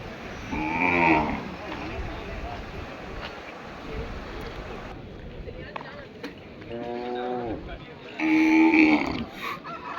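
Cattle with cloth tied around their horns, at an agricultural festival, give several drawn-out moos, one early and two louder ones near the end, over a steady outdoor crowd and wind background.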